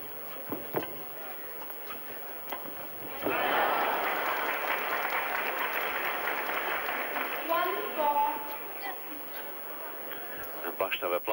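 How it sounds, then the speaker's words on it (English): A burst of applause from Korean supporters in the crowd at a 1988 badminton Grand Prix final rises suddenly and holds as a dense clatter of clapping, with a commentator talking over it. "A burst of applause from the Korean support in the crowd."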